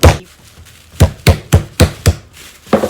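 Wild turkey breast gets pounded flat with a meat mallet, a series of six or seven sharp, close thumps on a board at a steady, slightly uneven pace after a short quiet gap.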